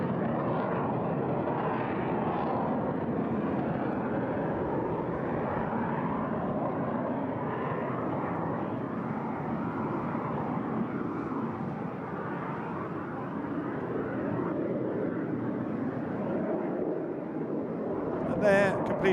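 Display aircraft at the Eastbourne International Airshow fly off after a manoeuvre, giving a continuous, fairly distant engine rumble that stays even for the whole stretch, with a brief sharper burst at the very end.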